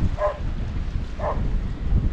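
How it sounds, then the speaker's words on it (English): Strong northeasterly wind on a coastal fishing spot buffets the microphone with a steady, loud low rumble throughout, with two brief muffled sounds rising above it. "I'm sorry about the wind"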